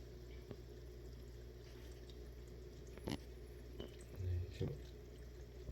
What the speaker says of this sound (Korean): 물소리도 한번 들어보세요